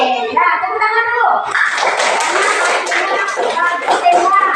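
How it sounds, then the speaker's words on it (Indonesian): Children clap their hands in a quick, busy patter, starting after a teacher's voice and continuing alongside chatter. "tepuk tangan dulu"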